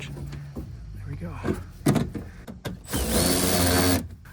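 A power drill drives a screw through a spacer into a RokBlokz mudflap on a 2020+ Chevrolet Silverado 2500/3500, giving one steady, loud whir of about a second and a half after a few short clanks and bumps.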